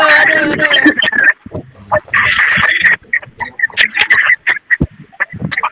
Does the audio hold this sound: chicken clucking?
yes